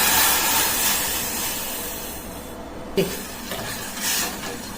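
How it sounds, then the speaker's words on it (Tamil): Steady hissing bubble of mango juice, sugar and water boiling hard in a pot for payasam, with occasional scraping knocks of stirring near the end. "கட்டிப்படாத கிண்டி விட்டுக்கிட்டே இருக்கணும் மாம்பழம் நல்லா சலசலன்னு கொதிச்சு வருதுங்க"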